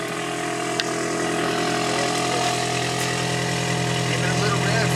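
A Scion/Toyota iM fitted with a DNA Motoring catback exhaust idles loudly and steadily at close range, a deep droning rumble running throughout with a brief click near the start.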